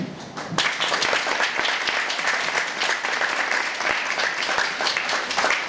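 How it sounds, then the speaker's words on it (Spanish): Audience at an international heritage colloquium bursts into full applause for a researcher, a loud, dense roar of clapping that starts abruptly and holds steady for several seconds. "damos entonces un voto de aplausos al investigador David"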